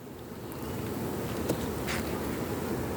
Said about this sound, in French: Un frelon qui se balade.